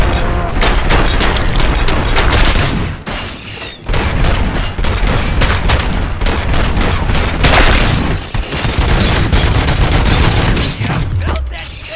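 Sustained gunfire and heavy explosions from the RoboCop: Rogue City video game fill a loud, dense battle scene, with bursts and booms continuing almost without a break and a brief lull around the third second.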